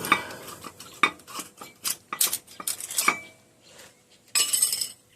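An old rear brake pad comes out of a 2008 Ford F-250 brake, giving a close run of sharp metallic clinks, taps and scrapes with brief pauses and a final cluster of rattling.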